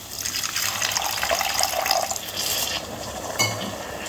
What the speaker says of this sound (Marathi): थोडंसं पाणी घालणार आहे म्हणजे मसाला एकजीव होतो